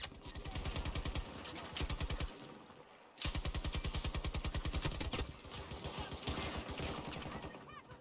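Rapid automatic AK rifle fire in Battlefield 2042, long sustained bursts of evenly spaced shots, loud and close, broken by a brief pause before firing resumes and trails off amid game noise.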